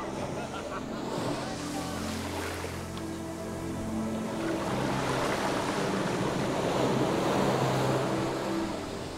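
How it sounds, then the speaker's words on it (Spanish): Sea surf washes onto the shore in a steady, continuous roar, with a low motor-like drone running beneath the broad wash of the waves. "Este es el mar del que tanto te he hablado"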